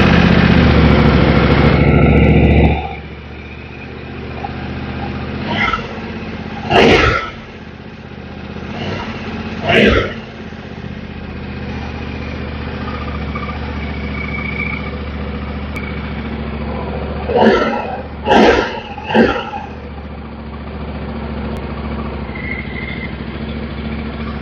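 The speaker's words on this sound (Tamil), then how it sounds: "அண்ட் சவுண்ட் வந்து ட்வின் சிலிண்டர் என்ஜின் தான்" Yamaha Ténéré 700 twin-cylinder engine idles steadily and close by after a louder start-up burst, with several short throttle blips rising above the even idle.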